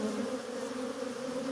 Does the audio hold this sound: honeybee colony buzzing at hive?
yes